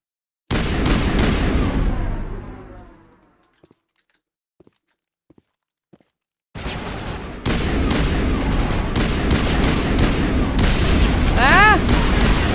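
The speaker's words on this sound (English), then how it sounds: "Guys, I'm shooting my crew." Gunfire in Mass Effect Legendary Edition: a loud burst of shots that fades into near silence with a few faint clicks, then a heavy, sustained barrage of rapid fire returns.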